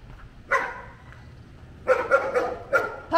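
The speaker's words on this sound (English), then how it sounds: "Puppy." A dog barks outdoors on a street in Tamarindo, Costa Rica, with one bark followed by a quick burst of four or five close, loud barks.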